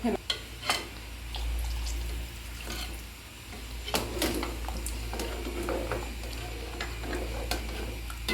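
Beef nihari mixture stirred in a pot: scraping and clinking of a spoon against the pot with soft sizzling underneath, steady and close, with a low hum throughout and no talking.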